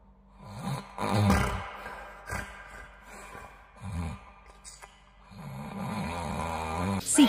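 A man snores in slow, rasping, throaty pulls, loud and close, with a few scrapes and shuffles between breaths.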